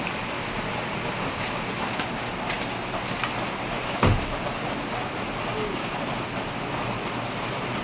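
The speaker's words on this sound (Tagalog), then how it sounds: "Malakas ang ulan." Heavy rain pours down in a continuous, dense hiss, with a brief sharp knock partway through; no talking is heard over the steady downpour.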